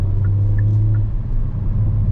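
Engine of a 2022 Hyundai Kona N, a 280 HP SUV, droning as it drives at night, heard from inside the cabin as a steady low rumble with a faint whine riding on top.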